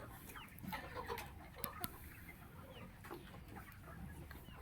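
Chickens cluck softly nearby in scattered, quiet calls, with a couple of sharp clicks and faint background noise.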